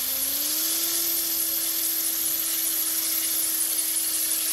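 Gyrocopter pre-rotator spinning the rotor up to about 140–150 RPM before takeoff, a steady loud whirring hum with a tone that rises briefly then holds level, continuous with no talk.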